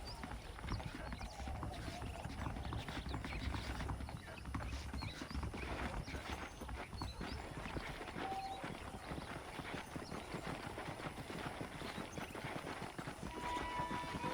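Horses clip-clop steadily at a walk in Red Dead Redemption, a continuous rhythmic hoof patter heard moderately loud over game ambience.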